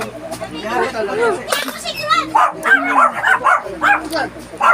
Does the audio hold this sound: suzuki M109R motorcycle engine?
no